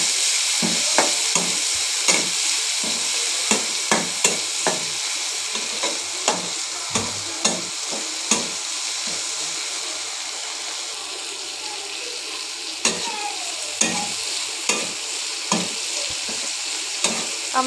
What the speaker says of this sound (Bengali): একটু লবণ, একটু হলুদ দিয়ে দেবো। কিছুক্ষণ ভেজে নেব।